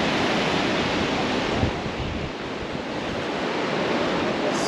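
Sea waves at high tide on Kihim beach near Alibag, a continuous loud wash of surf with wind buffeting the microphone, steady throughout with no speech.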